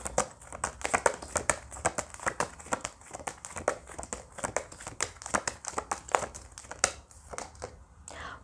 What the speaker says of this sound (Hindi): सारे कार्ड्स निकालती हूँ.